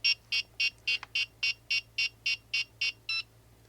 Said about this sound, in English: once you hear that final beep, that means it's initialized